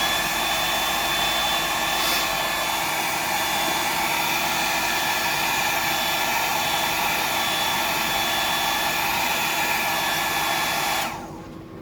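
A hair dryer blows steadily and loudly at close range over fresh paint on a stencil, a constant whooshing roar that cuts off abruptly just before the end.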